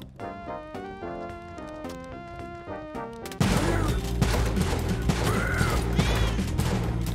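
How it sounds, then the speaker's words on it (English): Shotgun fired in Spelunky 2, a sudden loud blast that cuts through light melodic game music. A noisy, crackling wash lingers afterward. "Pick up the shotgun and shoot the guy."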